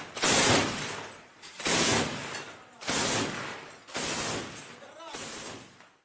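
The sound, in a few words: machine gun fire in Ukraine war footage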